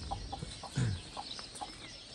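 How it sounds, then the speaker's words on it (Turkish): A large chicken on a village farm gives several short, quiet clucks at irregular intervals, with one slightly louder, lower cluck in the middle, set against faint background noise. "Büyük bir tavuk."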